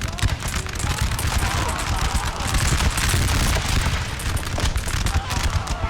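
Musket volleys from a battle in the video game Napoleon: Total War, a continuous rolling crackle of distant shots layered with booms and battlefield noise, steady and loud throughout.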